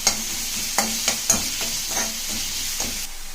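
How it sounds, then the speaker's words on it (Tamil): Onions sauté in hot oil in a kadai for a cauliflower gravy, giving a steady sizzle punctuated by repeated scraping stirs of a spoon against the pan, close and clear with no talking. "இப்போ கடாய் வச்சு எண்ணெய் ஊற்றிட்டு இந்த வெங்காயத்தை நல்லா வதக்கிக்கலாம்"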